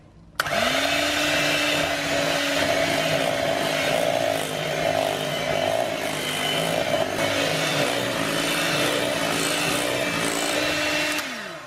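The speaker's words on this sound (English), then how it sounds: "So 2nd spoon going in, and then we're going to give it a whisk." Electric mixer whisking cream cheese and sugar for a lemon mousse, a loud steady motor whine that starts abruptly and runs evenly for about eleven seconds before cutting off, close and alone.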